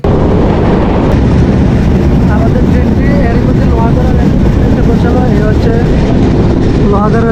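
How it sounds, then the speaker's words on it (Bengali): The Jahanabad Express, on its Khulna to Dhaka route, arrives at Lohagara railway station with a loud, continuous, close-up roar and rumble that never lets up, with talk mixed into the din. "এক মিনিট লেট করে লোহাগড়া রেল স্টেশনে এসে পৌঁছালো জাহানাবাদ এক্সপ্রেস ট্রেনটি"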